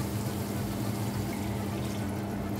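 Two decilitres of water poured from a cup into a tomato mixture while cooking, a steady low splashing pour heard alone throughout, fairly quiet.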